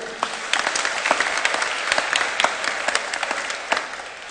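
A church congregation at a Mass for the feast of Santiago (Apong Tiago) applauds continuously, a dense, even clatter of many hands that lasts throughout.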